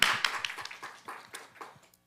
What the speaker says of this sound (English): Can we have a round of applause for Dr.